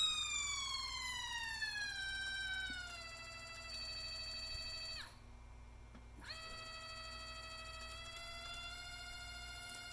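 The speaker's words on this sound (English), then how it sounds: "And you can also hear the motor." Stepperonline CL57Y stepper motor on a test bench driven by a Centroid Acorn controller, emitting a tonal electronic whine that glides down in pitch as it slows, briefly stops, then resumes at a steady lower speed, faint and alone.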